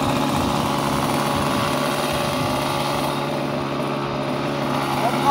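An OS 46 AX two-stroke glow engine on a model airplane runs steadily after starting, a continuous buzzing drone at close range with no pauses and no voices.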